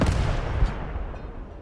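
A loud artillery gun firing in the WWII Eastern Front game Call to Arms Gate: one sharp blast at the start, a second boom around mid-clip, then a long rolling decay with no talk.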